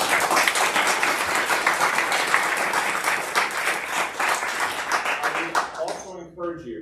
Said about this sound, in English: please join us in an applause for the panel.